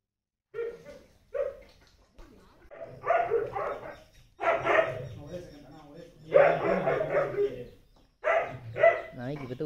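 Dog caught during a firefighter rescue, letting out a series of sharp barks and yelps in irregular bursts, close and fairly loud, with people talking around it.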